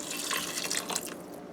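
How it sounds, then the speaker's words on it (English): Water poured from a two-cup measuring cup into an Instant Pot holding soup ingredients, a steady soft splashing stream that thins and stops after about a second, close and alone. "So we're gonna add water now."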